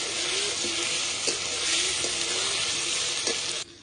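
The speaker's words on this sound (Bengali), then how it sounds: "এবার আলুটা দিয়ে দেবো আলুটা দিয়ে মশলার সঙ্গে একটু কষিয়ে নেবো" Potatoes sauté with spice masala in a hot pan, a steady loud sizzle broken by a few soft stirring scrapes, then it cuts off near the end.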